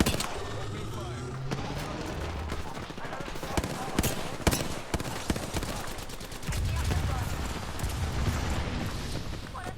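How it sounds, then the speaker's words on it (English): Rapid automatic gunfire rattles in bursts through a sci-fi video game firefight, loud sharp volleys with brief pauses and heavier blasts mixed in. "Opening fire."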